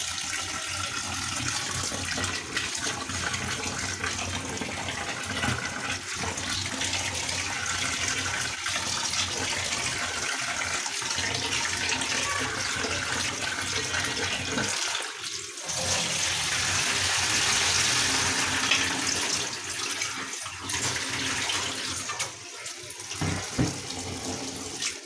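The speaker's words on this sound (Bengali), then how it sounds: "পেঁয়াজগুলো ধোয়া শেষ" Onions being washed under running water give a continuous close gush from a tap, with brief dips and splashes where the flow is interrupted by handling.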